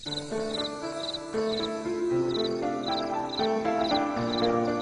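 A high, pulsing insect song repeats in short rhythmic bursts over a background of layered tonal music.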